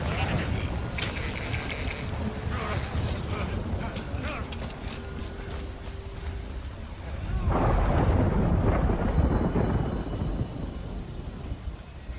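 Thunderstorm with steady rain in the video game Death Stranding, a continuous wash of rainfall with rolling thunder that swells louder partway through, no voices.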